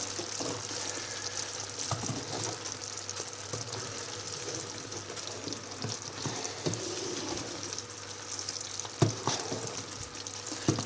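A sugar mixture for fondant bubbling and simmering in a pot, a dense steady hiss with occasional clinks and stirring taps, close up, no talking.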